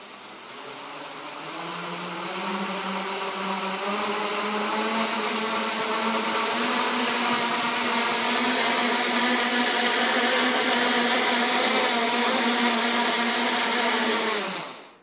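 Quadcopter electric motors spin up into a steady, loud, whining buzz with rising pitch, sustained throughout and cutting off at the very end.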